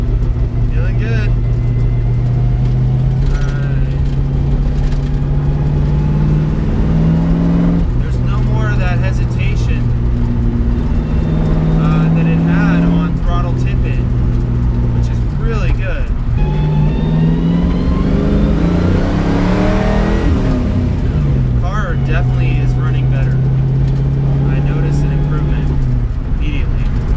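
A 1967 Mustang engine being readied for a track day runs loudly from inside the car, rising and falling through repeated throttle blips and revs with a steady engine drone between them, while someone talks at times.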